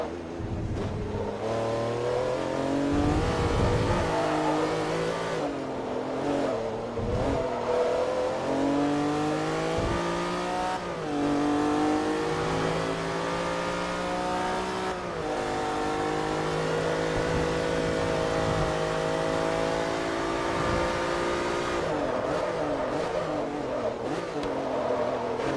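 Race car engine in Forza Motorsport 3 at Sebring International Raceway, loud and close, revving up and down through repeated gear shifts in a continuous rising and falling drone, with a few brief louder surges.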